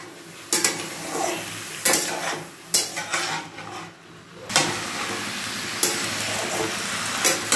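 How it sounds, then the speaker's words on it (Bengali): Masoor dal and winter vegetables sizzle in a pan while a spoon scrapes and stirs them, giving a few sharp clatters against the metal over a steady frying hiss, with no talking. "ডালের সাথে সবজিগুলোকে একসাথেই ভেজে নিচ্ছি।"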